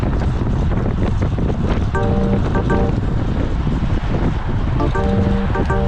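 Wind rushes loudly and steadily past a road cyclist riding at a fast pace, a constant buffeting roar with faint tonal whines that come and go.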